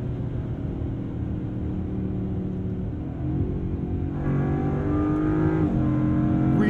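A 2022 Land Rover Defender 90 V8 with an 8-speed gearbox drones steadily from inside the cabin, then builds as revs climb, with a gear change and a rising growl near the end.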